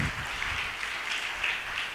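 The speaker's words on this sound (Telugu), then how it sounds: "ఏది చప్పట్లు కొట్టి దేవుని స్తుతించండి" Church congregation clapping hands in praise to God, a dense steady burst of applause from many people lasting a couple of seconds, fairly close and alone.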